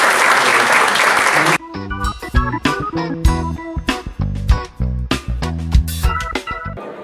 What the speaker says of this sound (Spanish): vamos a darle un fuerte aplauso a Cristian